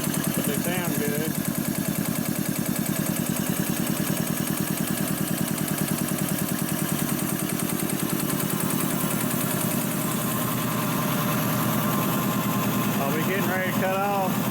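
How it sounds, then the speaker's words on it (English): A rebuilt industrial two-stage air compressor runs steadily under building pressure, its loud, even mechanical drone carrying a fast, regular ticking of valves opening and closing. "The more pressure gets built up, the more you can hear the tick of the valve open and closing."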